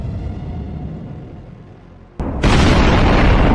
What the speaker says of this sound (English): munition hits the Russian column, damaging the vehicles